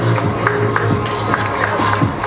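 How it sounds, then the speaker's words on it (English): Applause from an audience at a school investiture ceremony, a steady, dense wash of many clapping hands that keeps going without a break. "Please help us in motivating our future leaders by giving them a huge round of applause."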